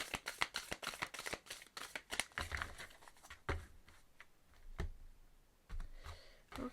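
Tarot cards are shuffled for a cross spread, a quick run of crisp riffling flicks and slaps, fairly close and soft, thinning into scattered taps and a few breaths toward the end.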